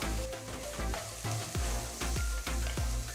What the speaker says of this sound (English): Saute the onions till they are transparent.